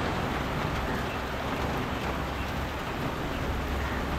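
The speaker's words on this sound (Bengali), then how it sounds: "বিশাল জোর বৃষ্টি হচ্ছে" Heavy rain pours down in a steady, dense hiss with no pauses, an unbroken wash of downpour.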